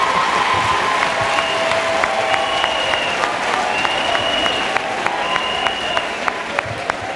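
A church audience claps together at a testimony gathering, a loud, dense and sustained round of applause from a crowd, with music or high tones ringing faintly beneath and no speech over it.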